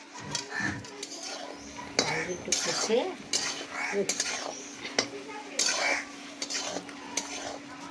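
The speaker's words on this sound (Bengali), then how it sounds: "তেল ছেড়ে দিয়েছে, এখন দিলাম আলু" Potatoes go into hot oil in a pan over a clay stove and get stirred, giving repeated scraping clinks of a utensil against metal with a faint sizzle underneath, steady and close.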